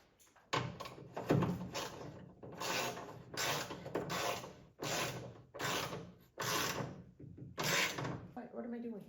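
A ratchet tightening a nut on a Willys CJ2A seat during restoration, with repeated bursts of clicking in an uneven rhythm, close and fairly loud, and brief pauses between strokes.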